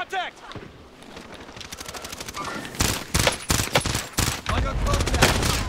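Dense video game gunfire on the Caldera battle royale map crackles in rapid bursts and volleys, growing heavier toward the end, with voices calling out over the shooting.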